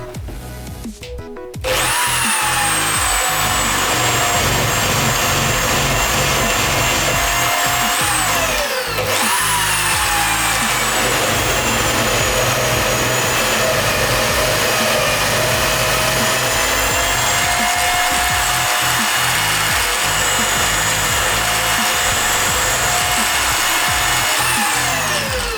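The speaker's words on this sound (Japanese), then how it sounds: "はい、綺麗に穴開けてきました。" A HiKOKI D10VH2 electric drill mounted in a cheap Chinese drill stand enlarges holes with a bigger bit, producing a loud, continuous close-up whine and grinding with a few brief pitch dips as it bites.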